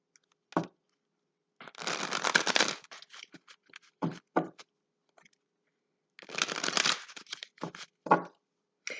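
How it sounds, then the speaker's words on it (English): A deck of cards is shuffled quickly, with two riffle bursts of dense fluttering rattle and several sharp taps and bridge snaps between them, close and alone without talking. "let's just give this thing a couple quick shuffles"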